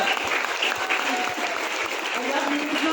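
Sustained audience applause fills the hall, a dense, even wash of many hands clapping at steady loudness throughout, with a faint voice or two underneath.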